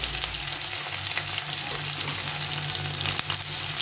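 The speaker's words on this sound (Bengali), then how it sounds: "একটু তেলে দিয়ে এখন আলুগুলোকে দিয়ে দেবো" Chunks of potato sizzle in oil, a close, steady frying crackle with occasional stirring scrapes and a low hum beneath.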